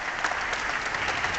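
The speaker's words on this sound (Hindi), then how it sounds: "ताली की गड़गड़ाहट बता रही हैं" Steady, dense applause from a large audience fills a formal hall at a Padma Awards investiture ceremony, sustained and even throughout with no break.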